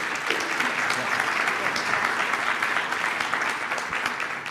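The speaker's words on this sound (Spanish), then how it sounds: "La vamos a recibir nuevamente con un fuerte aplauso" A seminar audience at a national public budget conference gives a sustained, dense round of applause, steady and fairly loud throughout, welcoming a speaker to the podium.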